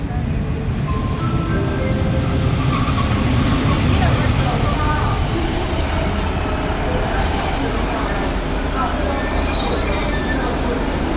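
A Thai State Railway train rumbles loudly and continuously, with high metallic wheel squeals rising and fading over the steady roar.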